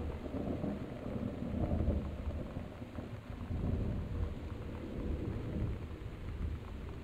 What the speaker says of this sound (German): War das jetzt ein Gewitter oder was war das?